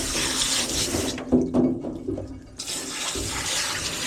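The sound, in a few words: water rinsing shampoo off a golden retriever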